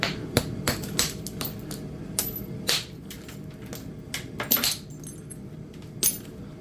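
Chunks of Edwards Plateau chert nodule snap and crack under repeated percussion while being spalled, sharp close impacts landing at irregular intervals alone, with small stony clinks between them.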